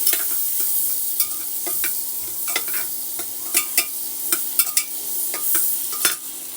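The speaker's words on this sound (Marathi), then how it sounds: "आता आपण यात बटर घालू बटरला थोडस गरम होऊ द्या" Butter heats and sizzles in a pressure cooker for pav bhaji, a steady close frying hiss broken by stirring scrapes and small clicks, with no talk.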